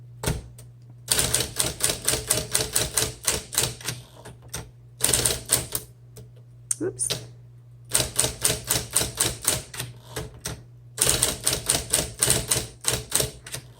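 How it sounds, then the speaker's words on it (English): A 1958 Smith Corona electric typewriter types in quick bursts of sharp, even keystrokes with short pauses between runs, heard up close over a steady low motor hum. "it has the ease of an electric typewriter"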